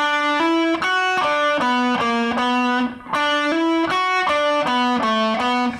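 A distorted electric guitar plays a repeating riff of short, punchy notes, with pitch shifts between notes and a brief gap partway through.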